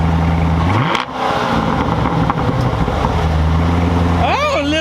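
A C7 Corvette engine with a new cold air intake idles with a low, throaty burble and blips of revving, close and loud, while people talk over it.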